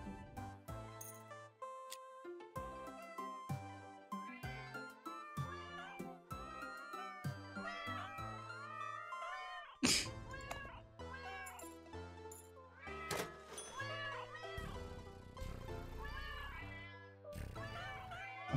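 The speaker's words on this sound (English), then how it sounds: "Oh, those are all cats." Cats meowing in a video game, several overlapping meows and caterwauls with music-like tonal layers, close and fairly loud throughout, with no talk.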